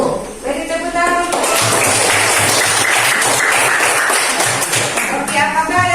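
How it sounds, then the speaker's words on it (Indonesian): Classroom audience applauding after a group presentation, steady dense clapping sustained for several seconds with voices mixed in at the start and end. "Beri tepuk tangan."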